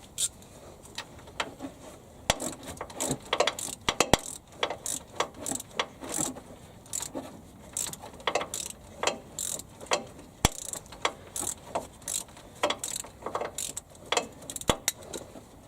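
A ratchet wrench loosening the wheel hub bolts on a 2000 Chevy Blazer during a hub assembly replacement, with close, repeated bursts of rapid pawl clicking in uneven strokes and short pauses, no talking.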